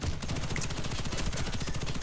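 Sustained automatic fire from an FN F2000 rifle in the Warface shooter game, a rapid continuous stream of loud shots running the whole time without pause.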